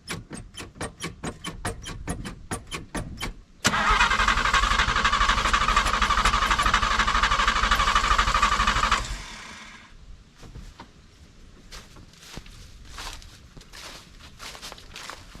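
A 1950 Chevy Styleline, long sunk in the ground, starts up: a run of rapid rhythmic clicks, then a loud, steady engine roar for about five seconds that drops to a quieter, uneven running sound with scattered ticks.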